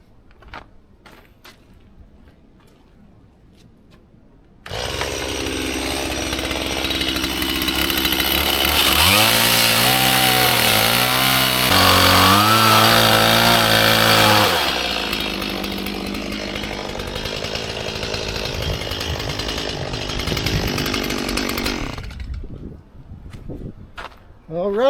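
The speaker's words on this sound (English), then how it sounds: "So, all I know to do is a little more chainsaw work." A chainsaw cuts into a burl on a log at a sawmill, its engine roaring loud and close for about eighteen seconds, revving up and bogging down as it bites the wood before dropping back to idle.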